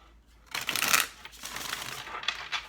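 A deck of tarot cards is shuffled up close, a quick riffling burst followed by softer sliding and flicking of the cards, with no talking.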